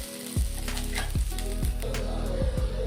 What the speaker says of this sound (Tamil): அதோட இப்போ நாட்டுச்சக்கரை போட்டு ஒரு ஃப்ரை பண்ணிக்க வேண்டியதுதான்